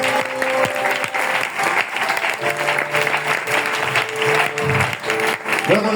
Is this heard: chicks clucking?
no